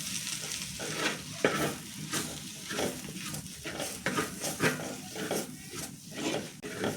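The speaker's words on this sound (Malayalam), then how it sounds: "നമുക്ക് നന്നായി ഇത് മൂപ്പിക്കാം കേട്ടോ." Black pepper and Kashmiri chilli powder fry in a pan for a pork dish, with a steady close sizzle and a rhythmic run of spoon scrapes and stirring strokes throughout.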